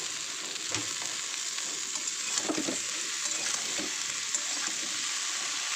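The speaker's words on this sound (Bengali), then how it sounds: "আনাজগুলো কী কী দেখো, করলা, আলু ও বেগুন। তো এই ফোড়নের সঙ্গে ভেজে নেব।" Bitter gourd, potato and brinjal fry in hot oil with tempering spices, a steady close sizzle with occasional stirring scrapes and clinks.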